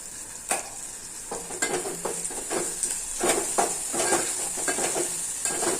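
Onions sautéing in a pan for a Kathiyavadi fenugreek-seed curry, a steady close sizzle broken by repeated scraping stirs of a spoon against the pan, with no talk.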